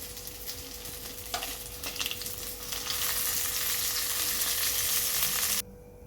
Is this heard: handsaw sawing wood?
no